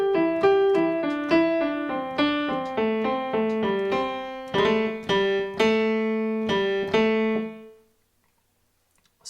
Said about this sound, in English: Starting on the A here, we've got kind of this triplet riff going down the scale